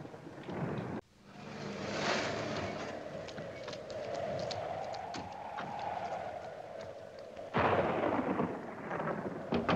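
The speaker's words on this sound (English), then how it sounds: "It was probably just the lightning in the storm, Pierre." Storm thunder rumbles in a 1957 film scene, a sustained, heavy low roll with a sharp crack near the start and a louder surge toward the end, with no voices over it.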